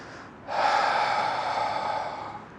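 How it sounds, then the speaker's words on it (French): A single long, forceful breath blown out through the mouth, starting abruptly after a brief quiet moment and holding as a close, breathy rush for about two seconds. "j'expire par la bouche en"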